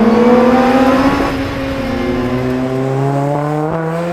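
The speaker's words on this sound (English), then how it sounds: "just listen to this exhaust" Lotus Exige S on its factory exhaust revving hard, a loud, raspy engine note climbing and settling, close and continuous with no talking.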